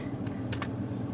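A few quiet computer keyboard keystrokes, pressed while typing Jawi letters in embroidery design software, come as two or three separate clicks over a low background hum.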